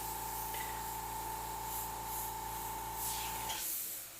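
An airbrush spraying paint onto a pumpkin artwork, a steady close hiss of air and paint that fades off near the end.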